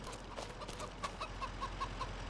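Chickens cluck softly in the Farming Simulator 25 video game, a faint, steady series of short clucks over a low ambient hum with no talking.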